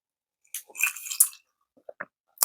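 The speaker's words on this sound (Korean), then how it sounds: "또 조금 간식이 땡겨서 먹겠습니다" Someone eats a daily snack, with close, crisp bites and chewing in short bursts separated by brief silences.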